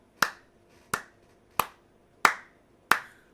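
One person claps slowly while seated, giving five separate sharp claps at an even pace of about one every two thirds of a second. Each clap is crisp and close, with silence between.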